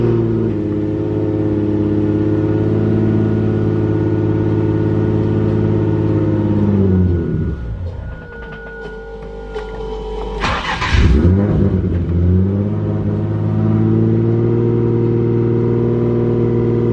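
A 600 HP single turbo Nissan 350z pulls hard with a loud, steady engine drone, eases off into a quieter whooshing gap with turbo noises, then surges back, heard from inside the car without talk.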